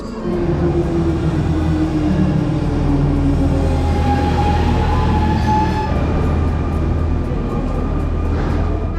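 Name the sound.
double-decker train interior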